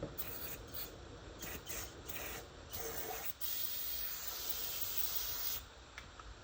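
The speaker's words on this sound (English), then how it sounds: "Little brake and parts cleaner." Brake and parts cleaner sprayed onto the lower unit of a Yamaha 90 two-stroke outboard gives a close, steady aerosol hiss, broken into short bursts at first and then held as one long continuous spray.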